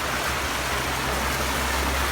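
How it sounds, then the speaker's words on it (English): Floodwater running like a river across North San Pedro Road, a steady loud broadband rush of flowing water with no break, close by and alone. "It's a river coming through here. This is the flood out of the smart tracks."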